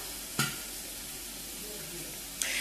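Food sizzles steadily in a heated saucepan on a kitchen stove as it is stirred, a constant close frying hiss with two brief clinks of a utensil against the pan and faint talk in the background.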